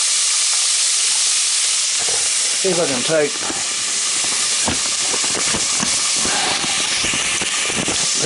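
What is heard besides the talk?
oysters frying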